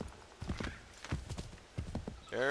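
Video game horse hoofbeats in Assassin's Creed 3 clop along steadily at a brisk gallop, fairly close, ending with a brief whinny-like tonal burst.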